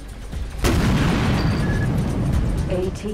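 Missiles slam into a ship in the space game X3 Albion Prelude: a sudden loud blast followed by a heavy, sustained rumbling roar of explosions.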